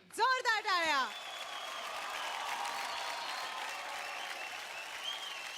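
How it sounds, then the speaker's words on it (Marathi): Applause from a dance competition show audience swells after a loud announcer's voice at the start, then continues as steady, sustained clapping from a large studio crowd. "जोरदार टाळ्या"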